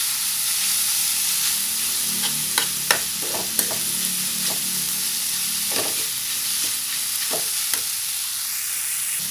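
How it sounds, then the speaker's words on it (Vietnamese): Steady close sizzle of food being stir-fried in a pan for a seaweed and tofu-skin roll dish, with scattered spatula scrapes and clicks against the pan over a constant frying hiss. "Rồi mình xào như thế này nó đã được rồi nè các bạn"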